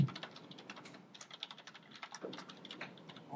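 Rapid keystrokes on a computer keyboard clatter steadily at close range, an irregular run of sharp clicks with no talking.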